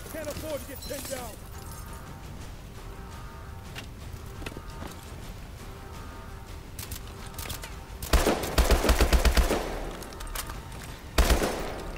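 Gunfire in a Call of Duty: Advanced Warfare Bio Lab match arrives in loud rattling bursts late in the stretch, after a quieter run of footsteps and ambient noise, with a player talking over it.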